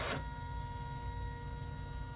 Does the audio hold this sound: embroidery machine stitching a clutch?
yes